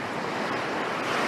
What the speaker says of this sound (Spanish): este es el sonido del mar Caribe